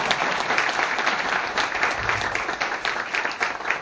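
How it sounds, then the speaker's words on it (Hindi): An audience at a meeting gives a hearty round of applause for a guest, a dense, continuous crackle of many clapping hands that stays loud and even from start to finish. "तो पांडे साहब के लिए एक जोरदार तालियां हो जाए"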